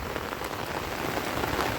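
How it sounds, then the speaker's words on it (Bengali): Heavy rain pours down in a dense, unbroken roar of drops striking surfaces close by, loud and even throughout. "যে বৃষ্টি খুব পড়তেছে"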